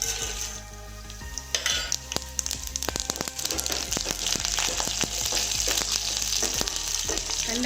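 Dried red chilies, mustard seeds, urad dal and fenugreek frying in hot oil, a close, dense sizzle with rapid popping and crackling that builds in intensity, with no talk.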